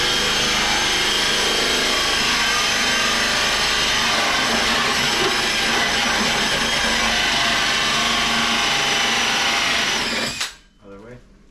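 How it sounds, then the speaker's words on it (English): A power drill whines continuously and loudly up close while boring a hole during an over-the-range microwave installation, its pitch wavering with load, then cuts off abruptly near the end. "Once the drill hole goes through, you can flip it around until the drill goes through"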